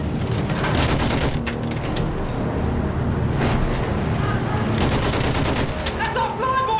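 Dense, sustained machine-gun fire in the World War I shooter Battlefield 1 (1918 France), loud and continuous with heavy rattling bursts and distant booms layered throughout.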